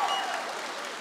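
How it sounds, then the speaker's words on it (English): Rally crowd applause at a health care rally in Pittsburgh, a brief, steady burst of many hands clapping, moderately loud and continuous. "give yourselves a round of applause, folks"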